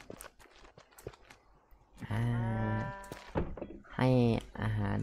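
Cows mooing in the farming video game Ludus, two drawn-out, loud moos in the second half, with soft thumps and clicks before them.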